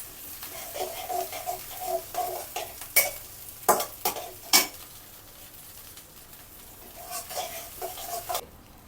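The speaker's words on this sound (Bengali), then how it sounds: "পেঁয়াজ কুচি দিয়ে দিচ্ছি। এখন পেঁয়াজটা লাল লাল না হওয়া পর্যন্ত আমরা এটা চুলায় রাখবো।" Chopped onion fries in a pan for a hilsa fish curry, with a soft steady sizzle under repeated stirring scrapes and a few sharp, loud utensil clanks against the pan.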